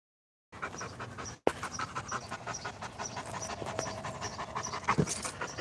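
A dog pants rapidly and steadily close by, a rhythmic breathy huffing that runs on after a brief silence and a sharp click.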